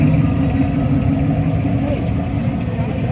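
A Ford car rolls onto a grassy car show field with its engine running steadily at low revs, a dense continuous rumble close by with a hint of acceleration.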